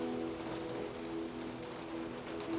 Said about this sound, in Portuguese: Ao som da chuva.